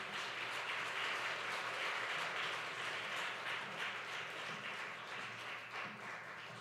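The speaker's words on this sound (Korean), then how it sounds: "뜨거운 박수로 환영하도록 하겠습니다" Church congregation applauding warmly during a revival service as an elder comes forward, a steady wash of many hands clapping that stays even and dense throughout without voices.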